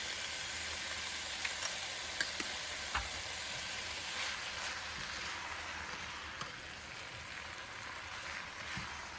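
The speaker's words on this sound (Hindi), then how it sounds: "दो टेबल स्पून सोया सॉस डालेंगे, वो सोडियम वाला," Soy sauce sizzles in a pan of shrimp fried rice, a steady close hiss with a few small pops and clicks. There is no talk.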